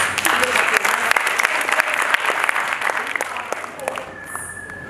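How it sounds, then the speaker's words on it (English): Applause for a school's theatrical performances of dressing, dancing and drama at a high school event, a dense steady clapping from an audience that carries on throughout and thins slightly toward the end. "Let us give a round of applause."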